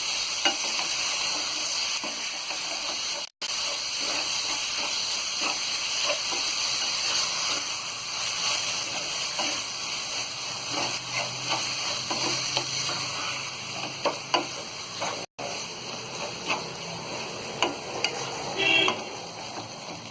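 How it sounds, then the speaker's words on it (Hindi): Mashed roasted eggplant for baingan bharta sizzles steadily in a pan while a spoon stirs and scrapes through it, a continuous close frying hiss with scattered knocks of the utensil and two brief dropouts, no talking. "और इसे हम अच्छी तरह चलाएंगे।"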